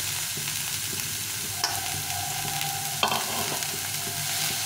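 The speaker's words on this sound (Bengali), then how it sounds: "এখন এই লাউটাকে আমি এখানে সুন্দরভাবে ভেজে নেব" Squeezed bottle gourd frying in a pan for a sweet payesh, a dense steady sizzle with a few sharp clanks of a spatula stirring, close and with no voices.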